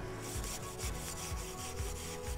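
A brass brush scrubs varnish off a small wooden table in steady, rhythmic back-and-forth strokes, close and fairly quiet, with a scratchy rasping texture.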